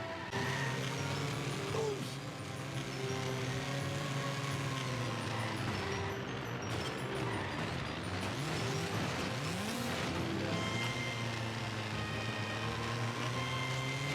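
A car driving in the video game The Simpsons Hit & Run, an unlockable street-race car whose steady engine hum runs throughout with shifting tones as it speeds along, under continuous game sound.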